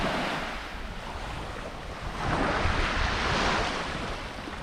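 Surf breaks steadily at a sandbar on Kalanggaman Island: a continuous wash of waves blends with wind buffeting the microphone, swelling louder about halfway through and holding there. No voices.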